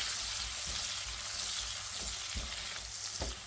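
Shrimp heads frying in a pan with salt, turmeric and chili powder, a steady close sizzle with occasional louder crackles and stirring knocks, no voices.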